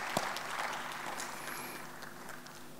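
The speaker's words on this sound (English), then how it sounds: "Give big applause." Audience at a climate-change conference plenary session gives moderate, even applause, steady clapping that carries at a distance in a large hall and fades slightly toward the end.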